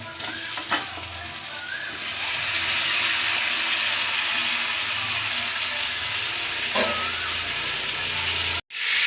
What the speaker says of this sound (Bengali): মাংসটা দিয়ে আমি ভালো করে কষিয়ে নিচ্ছি মশলার সঙ্গে